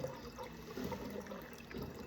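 Water from a tap keeps running and trickling as it fills a container toward overflowing, faint and steady, with no voices.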